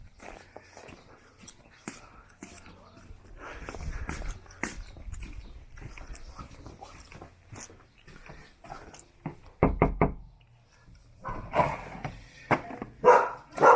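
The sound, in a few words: dog greeting visitor at mom's house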